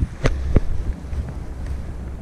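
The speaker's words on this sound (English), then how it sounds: "That wind's dying down a bit" Wind gusting across a microphone on a fishing pier at Great Yarmouth and Gorleston by the sea, with low rumbling buffets and a couple of sharper gusts early on. No one speaks.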